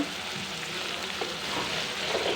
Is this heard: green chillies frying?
yes